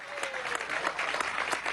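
An audience at a congress applauds the minister, a steady patter of clapping hands heard at moderate distance with no break.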